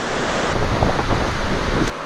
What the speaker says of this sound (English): It's a pretty big whitewater down there.